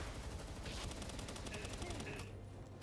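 Rapid gunfire in the survival video game Palworld, a dense rattling burst of shots running steadily through the moment amid busy game noise.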